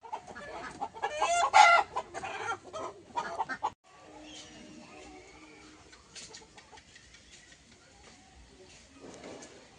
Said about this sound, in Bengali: এই হচ্ছে বাড়ির মোরগ